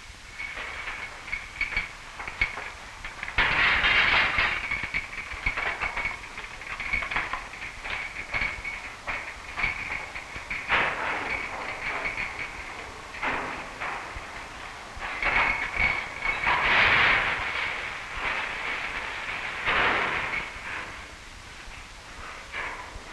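Freight train wagons rolling past the loading hoppers at the Espérance-Longdoz steelworks in 1961, a long continuous rumble with metallic squeals and clanks rising and falling, moderately loud and close.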